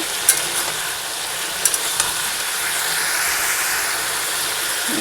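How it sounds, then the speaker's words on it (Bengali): Bay leaf, dried red chilli and panch phoron sizzle in hot oil as a Bengali tempering, a steady close hiss with a few sharp pops near the start and no speech. "তেজপাতা শুকনো লঙ্কা আর পাঁচ ফোড়ন দিয়ে বসিয়ে দিয়েছি"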